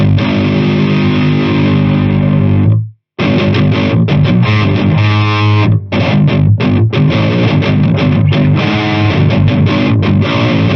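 Heavily distorted electric guitar through a Djenttonic distortion pedal, loud chugging riffs and sustained chords with a brief silent gap near the start, then rhythmic palm-muted bursts, no talking.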